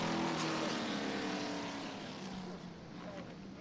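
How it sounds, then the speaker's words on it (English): Vintage race cars at a racetrack during a speed festival, their engines a loud, sustained roar that fades slightly as they pass, with no clear talk over it. "A couple of great cars making great noises on the racetrack right now."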